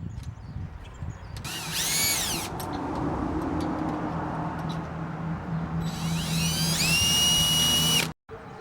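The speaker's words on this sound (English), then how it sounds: "Make a hole with this drill into these holes and screw it in." An electric drill bores screw holes in the rails of an Emco screen/storm door, two rising whirring bursts with a lower grinding hum between them, close and loud, ending abruptly.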